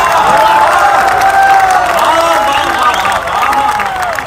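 A crowd at a Kumar Vishwas poetry recital in Nimbahera cheers and claps loudly, with shouting voices mixed into the sustained applause.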